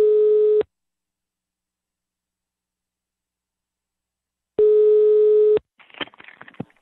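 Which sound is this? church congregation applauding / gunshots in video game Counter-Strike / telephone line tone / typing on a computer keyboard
telephone line tone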